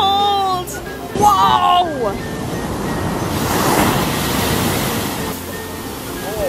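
Ocean waves wash in at a beach, a broad loud rush of surf building and receding, with people talking and exclaiming over the water.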